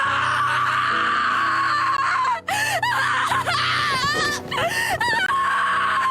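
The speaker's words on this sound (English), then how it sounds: "he's screaming and crying about the loss of his friend" Gobta, an anime character from the Slime series, screams and sobs over a lost friend, with high wavering wails and cries rising over a constant tonal music bed and rough vocal bursts in the middle of the run.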